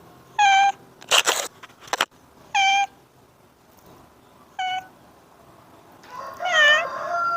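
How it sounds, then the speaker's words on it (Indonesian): A cat recovering from a hit-and-run meows several times, short clear cries spaced apart, with a few clicks and bumps between and a longer meow at the end. "sudah bisa mengeong-ngeong."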